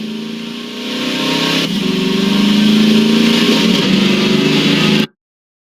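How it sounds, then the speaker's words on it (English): Engine of the buggy vehicle in the video game Half-Life 2, a loud, close mid-pitched motor that idles, then revs up and holds a steady, droning rise before cutting off abruptly. "Buggy sound engine."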